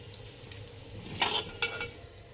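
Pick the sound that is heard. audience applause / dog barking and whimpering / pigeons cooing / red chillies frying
red chillies frying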